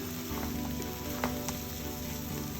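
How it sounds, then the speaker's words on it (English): Green chilies and broccoli tumble into a pan of frying onions, bringing a quiet, steady sizzle with a few light clicks and stirring taps. "And now I'm going to add some green chilies and broccoli."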